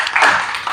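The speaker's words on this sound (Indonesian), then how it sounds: "Beri tepuk tangan untuk kalian semua." Students in a classroom burst into brief hand clapping, a short, close patter of claps lasting under a second with no talking over it.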